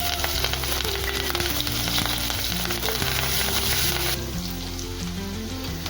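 Mustard seeds, curry leaves, hing and green chillies crackle and sizzle loudly in hot oil for a tempering, a dense continuous frying hiss that eases slightly toward the end.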